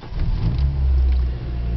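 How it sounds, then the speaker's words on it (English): Pickup truck engine turning over and catching, settling into a steady low rumble that stays loud and close throughout, with no voices. "I will start the truck"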